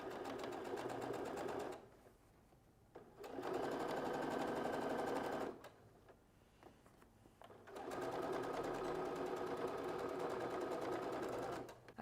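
A sewing machine runs along the edge of a handmade backpack-style bag's lining in three steady bursts of rapid stitching, separated by brief pauses, close and clear with no talking.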